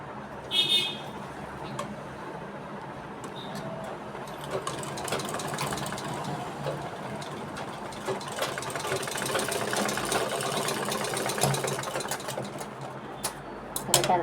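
A sewing machine runs steadily for the whole stretch, stitching a high neck collar onto the shoulder seam. The motor is close, with a dense mechanical whir and light rattling.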